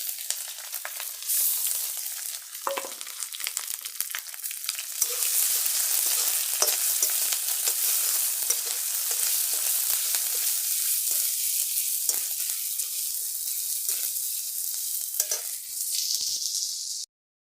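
Turmeric and ginger paste sizzles loudly in a hot pan, a continuous bright frying hiss with a few soft scrapes and clicks of stirring throughout.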